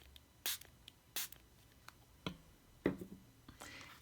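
A spray bottle spritzes water onto a watercolor tulip painting in a few quiet, short hissing bursts spaced irregularly, with faint handling noises between them.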